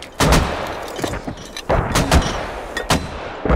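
Mortar barrage in the military shooter Squad, with loud heavy booms arriving in quick irregular bursts, each followed by a rumbling tail, and almost no voice in between.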